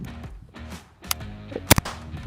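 A KRISS Vector rifle fitted with a three-position forced-reset trigger fires in semi-auto, giving a couple of sharp, close cracks in quick succession near the end of a short stretch.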